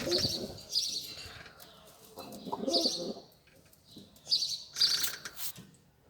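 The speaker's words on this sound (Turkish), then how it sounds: "Şuradaki kuşları gösterelim." Pigeons and their young coo and chirp close by in uneven bursts, with occasional wing flaps and quiet gaps between calls.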